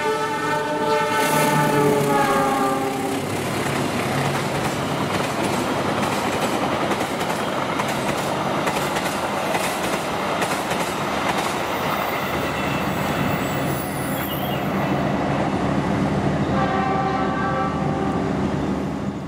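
The Kertajaya passenger train rolls steadily past at close range with a continuous rumble and clatter, its horn sounding at the start and again near the end.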